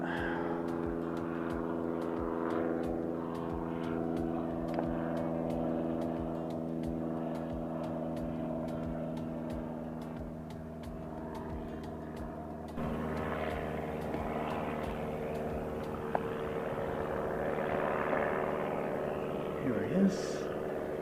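Aircraft ZK-DST flies over Christchurch airport, a steady distant engine drone with tonal hum that holds for around twenty seconds and shifts in character partway through as the plane draws nearer, with a voice briefly heard.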